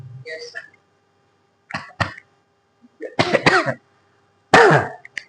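Several separate coughs and throat clears in short bursts with quiet gaps between, close by, ending in a harsher, louder cough.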